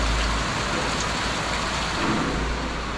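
Heavy rain pours steadily and loudly outdoors at a building site where tiles are being laid, a dense, constant hiss with no pauses and no talking.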